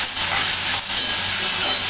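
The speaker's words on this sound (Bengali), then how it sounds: "এবারে এটাকে একটু নাড়াচাড়া করে আমি রাখছি।" Onions fried with ginger-garlic paste, being stirred in a pan, make a bright steady hiss close by, with slight surges as the mixture is moved.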